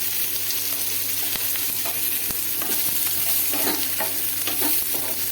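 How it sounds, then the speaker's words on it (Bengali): Onion, capsicum and carrot sizzle in a pan while being stirred for white sauce pasta, a constant dense frying hiss with scattered spatula scrapes and clicks, close by, no talking. "পেঁয়াজটা দিয়ে একবার আমি জাস্ট নেড়ে নিচ্ছি এবারে ক্যাপসিকাম গাজর এগুলো দিয়ে দেবো"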